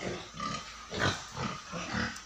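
Pigs on a pig farm grunt in a few low, rough bursts spaced roughly half a second apart, close by over a steady noisy background.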